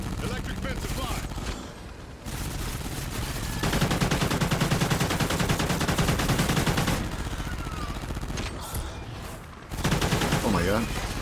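Sustained automatic gunfire in a Call of Duty Zombies game, firing in long dense bursts with brief gaps, loud and close, with voices speaking over parts of it.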